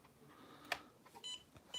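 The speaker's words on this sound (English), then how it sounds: "Hear it beeping, letting you know your radio's on." Faint high-pitched electronic beeps from an RC radio transmitter's power-on warning, a short burst repeating a couple of times over quiet background noise.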